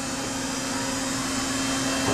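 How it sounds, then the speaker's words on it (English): Okuma Howa Millac 630H 4-axis CNC horizontal machining center with its spindle turning at about 2500 RPM, giving a steady, even hum with a faint tonal whine that holds throughout, close and alone. "Spindle actually sounds pretty good. Right now we're about 2500 RPM."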